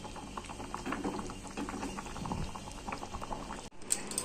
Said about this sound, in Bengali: মাছগুলো দিয়ে এবার আমি ফুটিয়ে নেবো।